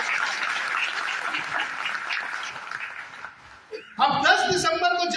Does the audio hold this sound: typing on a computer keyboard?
no